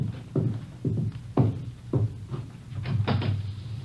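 Someone raps on a back door in a 1950 radio drama, a run of about seven distinct knocks in an uneven rhythm, close and fairly loud, with no voices over them.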